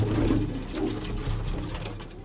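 Pigeons coo softly nearby, a few low, rolling coos repeating over a quiet outdoor background.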